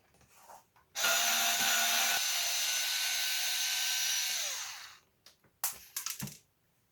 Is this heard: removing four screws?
yes